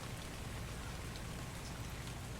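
Rain falling in the video game ARK Survival Evolved, a steady, even hiss of heavy rain with no voices.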